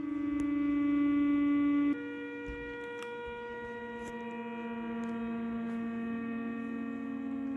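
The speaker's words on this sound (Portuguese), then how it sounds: "Esse é o som de uma estrela." Steady electronic drone of layered sustained tones from a sonified star, shifting to a slightly lower, quieter chord partway through, with no voices.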